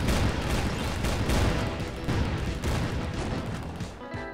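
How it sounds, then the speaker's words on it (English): A cartoon basketball cannon fires in a rapid barrage of booming, crashing blasts that continue for several seconds, loud and dense, without talk. "El Destructo has him in the crosshairs of his basketball cannon"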